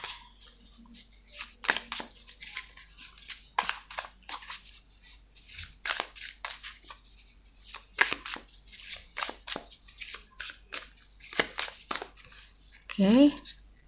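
Tarot cards are shuffled by hand in a long run of crisp riffling and flicking bursts, close and fairly loud, with short pauses between, and a brief squeaky sound near the end.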